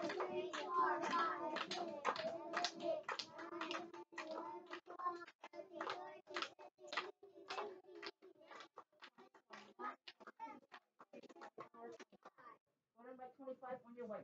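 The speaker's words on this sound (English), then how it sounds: "Let's clap 25 times." A group of kindergarten children clap together in a classroom, with a long run of sharp, evenly spaced claps close by. Young voices sound along with the claps, and a short pause comes before a few final claps.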